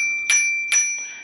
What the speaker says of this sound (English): It also comes with a bell